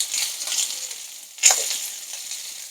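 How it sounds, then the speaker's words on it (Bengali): Aubergine and potato frying in oil in a pan for a Bengali fesa fish dish: an ongoing gentle sizzle, with a sharper scraping stir burst midway that quickly settles back to the steady crackle. "এটাকে একটু ভালো করে নেড়ে চেড়ে ভেজে নেব"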